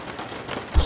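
Rain striking a window pane, a steady soft hiss of drops across a short stretch with a slightly louder patter at the end.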